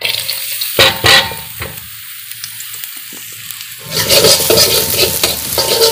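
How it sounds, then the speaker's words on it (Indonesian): Oil sizzles and crackles in a wok as sliced onions drop in, with a few sharp clatters, then the frying grows louder and steadier. "Sekarang kita panaskan minyak di wajan. Kita masukkan irisan bawangnya."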